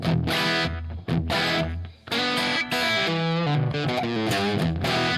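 Electric guitar played through a Marquee Club amp with echo, a loud distorted run of strummed chords and picked notes with repeating trails, cut by two short pauses.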